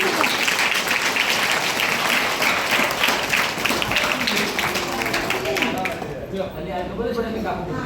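A crowd of students and guests claps at a school graduation ceremony for standard 8, a dense, sustained burst of applause that thins toward the end, with voices audible underneath.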